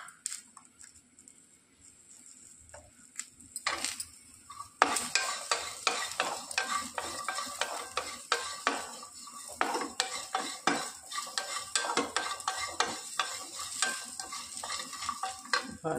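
Onions fry in a pan while being stirred, with the metal utensil scraping and clinking repeatedly over a steady sizzle, close and busy after a quiet start.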